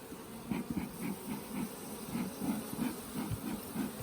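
A steady, low buzzing of honeybees swarming close by around a hive after a swarm has left, pulsing in rapid uneven waves with no voices.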